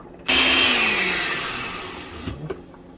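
A kitchen blender whirs loudly and steadily alone for about two seconds, its motor pitch sliding slightly lower as it works, then cuts off and winds down with a few small clunks.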